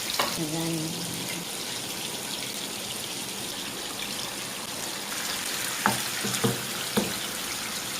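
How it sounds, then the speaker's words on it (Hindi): Raw minced beef kebabs fry in a pan on a home stove, giving a steady, loud, close sizzle throughout, with a few brief clicks and clatters near the start and again toward the end. "अब मैं ये फ्राई कर रही हूँ कबाब को"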